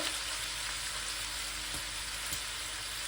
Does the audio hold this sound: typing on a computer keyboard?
no